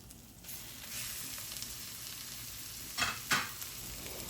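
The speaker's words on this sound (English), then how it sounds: "you just want to keep on frying this until it's really, really cooked" Minced chicken breast sizzles steadily in a hot pan for Thai basil stir fry, a constant crackling hiss, with a couple of brief louder scrapes as it is stirred.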